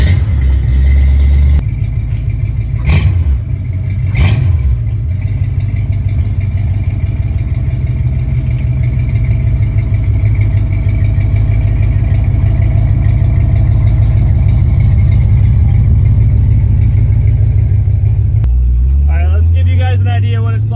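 A 1969 Ford Mustang engine rumbles steadily and loudly from inside the car while driving, a low constant drone with a couple of brief sharp knocks early on and a person speaking briefly near the end.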